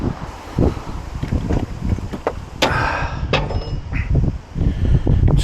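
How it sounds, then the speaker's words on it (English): Strong, gusty wind of around thirty miles an hour buffets the microphone outdoors beside a canal boat mooring. The rumbling blasts are loud and uneven, with sharp bursts rising and falling and a few knocks in between. "It's blowy as hell, so that's not great. 30-mile-an-hour cross gusts."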